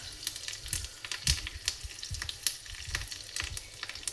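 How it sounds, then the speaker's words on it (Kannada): Chillies and curry leaves spluttering in hot oil as a tempering for raw mango tambuli, with close, steady sizzling and irregular sharp crackles and pops throughout, no voices. "ಈ ಥರ ಚಟಪಟ ಸಿಗುತ್ತಾ ಇರಬೇಕು. ಮೆಣಸು, ಕರಿಬೇವು ಸೊಪ್ಪೆಲ್ಲ ಚೆನ್ನಾಗಿ ಎಣ್ಣೆಲಿ ಫ್ರೈ ಆಗಲಿ"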